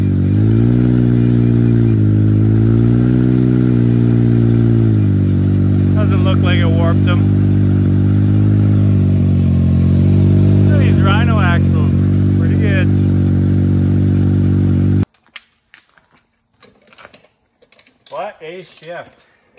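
A 4x4 truck on cheap tires holds a loud, steady engine drone that shifts pitch briefly; people talk over it before it cuts out, and faint voices follow.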